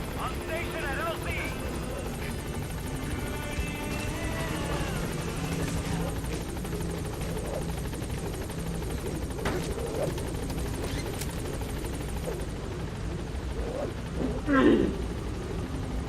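Rotor thump of the B-Quad support helicopter in Metal Gear Solid V arriving at a landing zone, a steady wash throughout with game voices talking over it.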